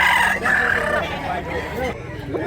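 Roosters crow at a poultry market among large-sized chickens, several overlapping calls loud and nearby against a busy background of clucking and crowd noise.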